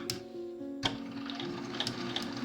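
A sewing machine stitches slowly along a curved seam, a soft close ticking rhythm of needle strokes with a sharper knock near the start.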